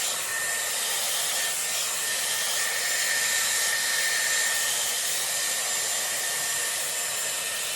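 A Dyson Airwrap with a round brush blow-dries hair, a steady close airy whoosh with a high whine, continuous and unchanging, no voices.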